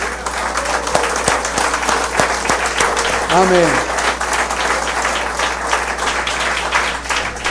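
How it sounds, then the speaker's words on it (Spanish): A church congregation claps together at a Sunday service, dense, steady applause filling the room, with a voice calling out briefly partway through. "y le aplaudimos con todo nuestro corazón"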